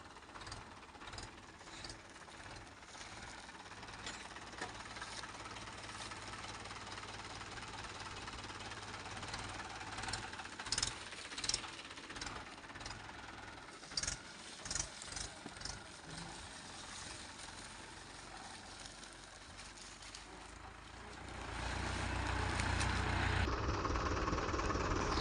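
A Mahindra tractor fitted with a cultivator runs in a farm field, its diesel engine chugging steadily with a low rumble throughout, growing noticeably louder and heavier near the end as the revs climb.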